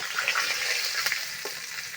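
Fish frying in mustard oil for a mango-and-shol fish dish, a steady close crackling sizzle with a few louder spits, no talking.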